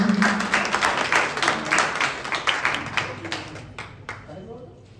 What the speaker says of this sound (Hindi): इसके लिए आप लोग तालियां बजाते हैं